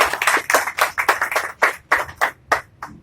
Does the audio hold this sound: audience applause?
yes